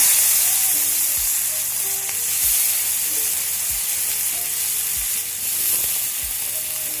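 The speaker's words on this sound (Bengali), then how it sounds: "তারপর কয়েকটা উপাদান ভালোভাবে ভেজে নেবেন" Dry red chillies and spices fry in hot oil for a rohu fish roe bhuna, giving a steady, close, loud sizzle with regular dull knocks from a stirring spoon against the pan.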